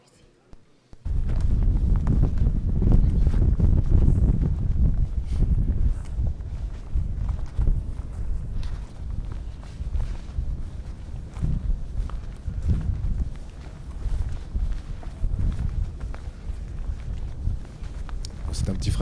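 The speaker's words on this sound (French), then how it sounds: "un petit extrait d'une marche dans le désert de Gobi" Footsteps trudging through the Gobi desert in strong wind, a loud constant roar and buffeting of gusts with steady crunching steps beneath, close to the microphone, with a voice talking over it.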